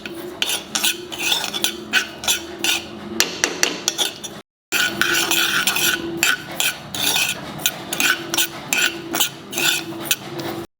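Sesame seeds roasting in a pan while being stirred, with steady scraping and rattling strokes of a spoon against the metal, a brief pause midway, then continued stirring close by.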